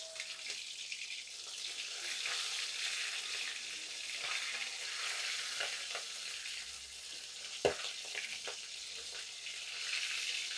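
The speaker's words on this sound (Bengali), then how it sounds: "এই তেলেই দিয়ে দেবো বাকি মাছগুলো। ভালো করে ভেজে নেব।" Pieces of rohu fish fry in hot oil in a village-style kitchen, giving a steady, fairly close sizzle that holds throughout with occasional crackles and one sharp clack partway through.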